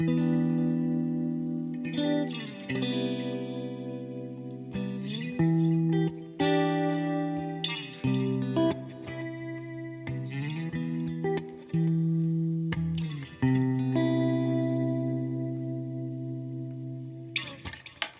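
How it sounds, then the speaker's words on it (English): Sustained electric guitar chords ring out through a tape delay, smeared, repeating echoes trailing each strum, played alone with a warm, wobbly delay wash. "Another great option for delay would be a tape delay"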